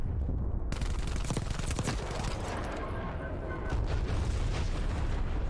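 Dense, continuous gunfire and explosive bursts from a Call of Duty Black Ops Cold War match, loud and sustained throughout with a brief quieter lull midway.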